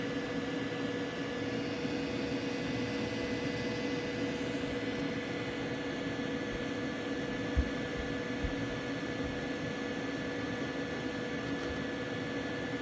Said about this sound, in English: Microwave running 1850.